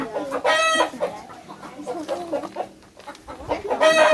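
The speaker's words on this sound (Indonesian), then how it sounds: "Ya ini ayam. Nah itu ada jagonya." Chickens and a rooster cluck in a livestock coop on a school farm, with repeated loud, close clucking bursts, and people talk nearby.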